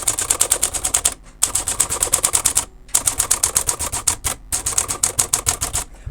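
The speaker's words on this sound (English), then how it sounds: "But yeah, that typed really nicely. Let's see if all the keys work." An Imperial 200 manual typewriter clacks through fast, even bursts of keystrokes with a few short pauses between runs, close and crisp with no talk.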